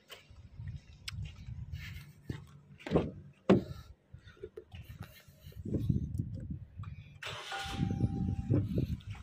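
A Suzuki Baleno hatchback's engine cranks and catches, then runs with a low rumble; a few clicks and thumps sound nearby, with quiet voices in the background.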